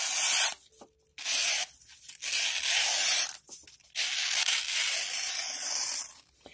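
A FURA Hornbill knife, a copy of the first-generation Thorn, slices through material in several close, crisp rasping strokes separated by brief pauses.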